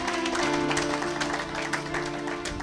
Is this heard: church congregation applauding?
yes